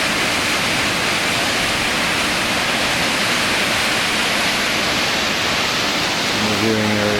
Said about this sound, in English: And another view of the waterfall.